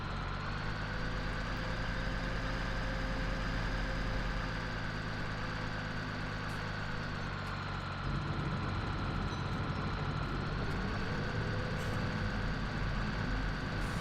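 The engine of a John Deere 3000SE machine in Farming Simulator 17 runs steadily, a continuous droning hum with a constant tonal whine that shifts slightly in pitch partway through, with no voices.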